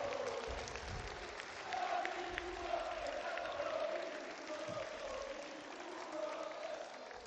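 Crowd applause at the Novara Calcio football club's evening presentation at the Broletto, a sustained, somewhat distant wash of clapping with murmuring voices mixed in.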